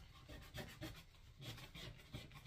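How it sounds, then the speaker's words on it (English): Hand sanding of cedar wood on a carved American flag piece, heard as soft rhythmic rubbing strokes, close and quiet, repeating in short bursts with no talk. "Now you get a nice little sanding."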